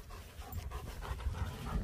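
German Shepherd dogs pant close by outdoors on a cold Scottish day, a quick, breathy rhythm that runs steadily through the short moment, with no talk.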